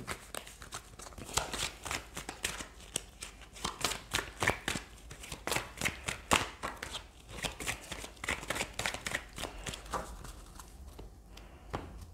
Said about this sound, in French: Alors, on va tirer d'autres cartes.